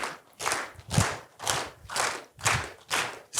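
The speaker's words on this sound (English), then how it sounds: "so we're gonna clap together" A room of attendees at an HVAC sales training session claps together in unison, about seven firm, evenly spaced claps at a steady beat, close by and clear.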